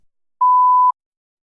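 A single clean electronic beep, steady in pitch and lasting about half a second, sounds alone against silence.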